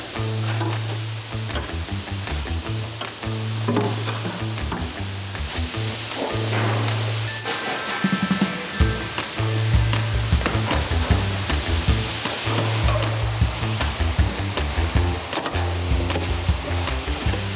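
Food frying in butter in a pan, stirred from time to time: a steady, close sizzle runs throughout, with occasional scraping and clattering of the stirring, under a persistent low musical hum.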